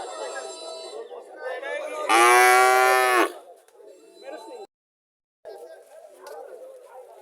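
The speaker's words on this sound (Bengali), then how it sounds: "এখানে আরো কিছু দেশি গরু দেশি সার গরু দেখা যাচ্ছে" Native Bangladeshi cattle at a busy village market lowing in one loud, drawn-out moo, with chatter and voices around it before and after.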